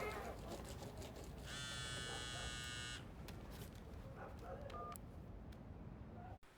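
Telephone keypad tones as an enemy spy dials a phone in a war film, a steady tone burst of about a second and a half over a dense background of music and ambience.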